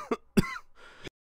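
Two short, close coughs followed by a raspy throat-clearing rattle, a stubborn cough produced by an AI voice generator, heard alone without other sound.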